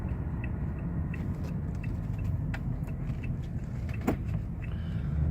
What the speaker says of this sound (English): Does have the power sliding doors with the fob.